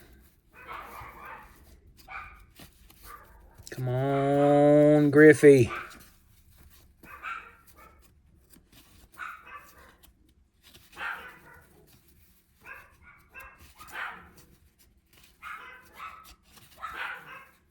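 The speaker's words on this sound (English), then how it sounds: "Y'all hear my dogs going crazy again." Dogs bark excitedly at home, a dense burst of loud barking in the middle with scattered yips before and after, while someone talks over them throughout.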